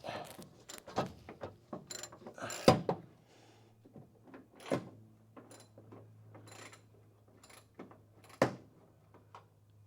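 A 3/8 ratchet removing a pilot nut during a Crew Cab Charger restoration, with scattered metallic clicks, clanks and short ratcheting bursts close by, separated by a low steady hum.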